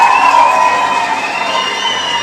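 A comedy club audience cheers and applauds a comedian at a stand-up show, a loud, dense wall of crowd noise sustained throughout with no clear break.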